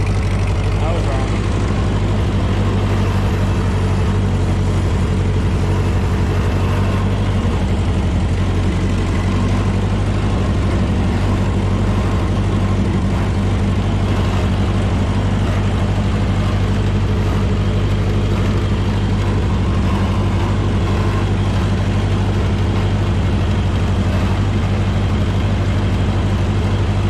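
Constant heavy low rumble of a Ford 8N tractor engine plowing through a snow bank, heard up close and unbroken throughout, with someone talking at times.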